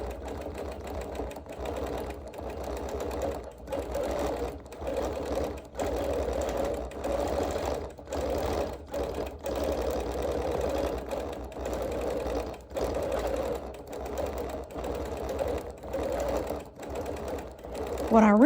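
Rapid mechanical stitching of a sewing machine quilting around appliqué and embroidery, running in bursts with short stops and restarts, close and steady, with a voice talking over it.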